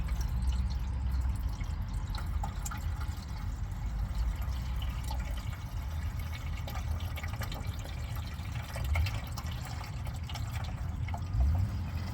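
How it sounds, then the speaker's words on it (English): Water pours and trickles into the radiator of a 1972 Chevy truck, a soft, continuous splashing and dripping held at low volume over outdoor background noise. "I'm going to pour some water in the radiator."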